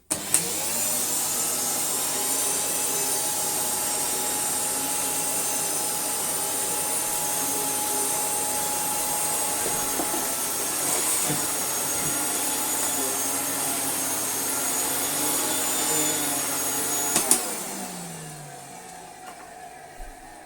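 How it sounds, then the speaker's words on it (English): A Hoover Sensotronic vacuum cleaner with a HEPA filter runs with a loud, steady whine and hum for about seventeen seconds, then switches off and winds down to near silence. "Then we could use our new and improved HEPA-flowed Hoover Sensotronic."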